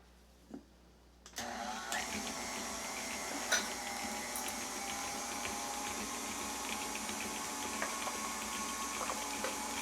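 An electric mixer whirs steadily as it whips cream cheese batter with eggs and vanilla extract for keto brownies, switching on abruptly and then holding a constant motor hum with faint clatter.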